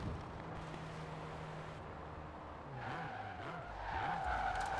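Video game car skidding at high speed, around 230 km/h, and crashing into a tree, with a continuous engine drone, a rising tire squeal and a few rhythmic scraping thuds toward the end, no talk.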